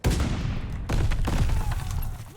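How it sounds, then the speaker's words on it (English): In a video game a stun grenade goes off with a loud crack, followed by a second burst and dense, noisy rumbling gunfire-like blasts. No voices are heard. "Watch it, stun grenade."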